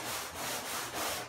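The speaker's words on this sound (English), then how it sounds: "So when I sand it," Sanding across chalk-painted sofa upholstery with a smooth leather-like finish gives a dry, hissing rub in a few back-and-forth strokes that swell and fade, close and alone.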